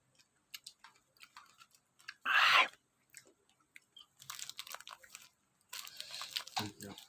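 Sour strawberries being chewed and bitten close to the mic, with a loud crunchy burst and scattered wet chewing sounds, some talk mixed in.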